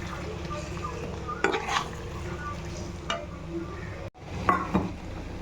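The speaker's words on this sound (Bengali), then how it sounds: "এখন আমি এখানে আগের থেকে সাঁতলিয়ে রাখা পটলগুলি দিয়ে দিব। ভালো করে মিক্সড করব।" Fried pointed gourd (potol) being stirred into a sizzling spice masala in a pan for Bengali doi potol, a soft ongoing fry with scraping spoon strokes and clinks, close and fairly loud, with a voice talking now and then.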